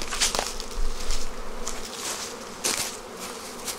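Honeybees buzz close by during a spring beehive inspection, a dense insect drone with a few sharper passes as bees fly near.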